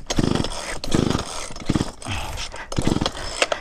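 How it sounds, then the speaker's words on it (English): Chainsaw full of gasoline with the choke on, being pulled repeatedly but failing to start: several rough, sputtering bursts in an uneven rhythm, close and fairly loud. "So I've been trying to start this chainsaw for, like, 30 minutes now, and it's fucking not going."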